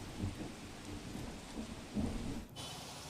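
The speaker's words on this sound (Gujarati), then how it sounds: "લાંબા વિરામ બાદ ફરીથી સુરતમાં વરસાદનું આગમન થયું છે" Rain falls in Surat as a faint, steady hiss of drops on surfaces, with a soft low rumble swelling briefly near the middle.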